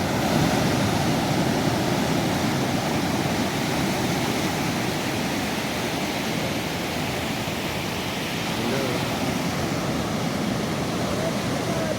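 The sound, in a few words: sea waves on the beach in Ilocos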